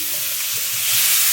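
Garlic and mushrooms sauté in oil in a pan, a close, dense sizzle rising slightly in loudness and continuing without pause.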